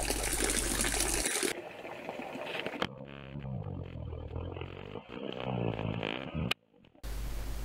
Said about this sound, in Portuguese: Agora a bomba já está a funcionar em pleno, com o poço quase cheio